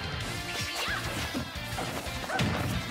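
Super Smash Bros fighters trading hits in a tournament match, including an up smash attack, with sharp smashing impacts and quick whooshes landing in fast succession over a busy, loud game mix.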